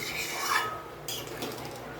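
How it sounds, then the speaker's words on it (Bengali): A spoon stirs a thin Bengali fish curry with plenty of watery gravy in a pot, giving soft scraping and rubbing strokes with faint liquid movement, close and fairly quiet. "দিয়ে আমি এবার এটাকে ভালো করে নাড়িয়ে নেব।"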